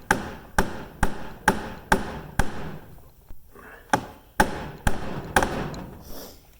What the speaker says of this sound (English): So now we're going to take our extractor, and we're just going to kind of tap it down in that hole a little bit.